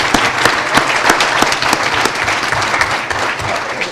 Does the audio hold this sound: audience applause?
yes